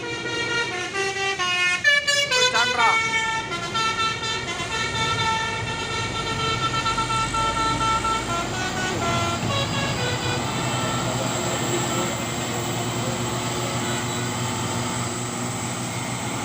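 Telolet musical horn of an orange Fuso 6x4 HD 220 PS turbo intercooler truck, a loud melodic multi-tone sequence in the first few seconds, followed by sustained engine roar and road noise, close by.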